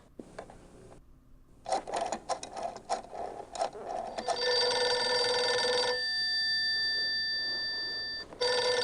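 A telephone rings in the Gabriel Knight adventure game: a warbling electronic bell sounding in loud sustained bursts over a soft musical background, following a stretch of busier game sounds.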